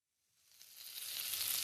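Diced mirepoix hits a heated stovetop pan holding fond, starting as silence and quickly swelling into a loud, steady, crackling sizzle that keeps building to the end, with no voices.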